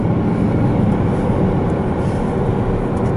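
Trains rolling past near a Kellogg's cereal factory, a steady loud broadband rumble with no clear onset or break, close by and without talk.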